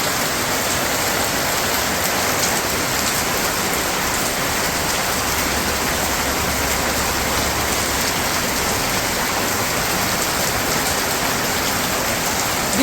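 Steady rain pouring down in a village, a dense, loud, continuous hiss of drops hitting surfaces nearby, alone without any voices.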